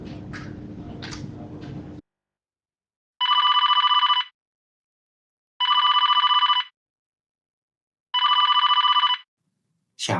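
A telephone rings in three separate trilling bursts, clear and close, separated by silence, after a brief stretch of other sound at the start.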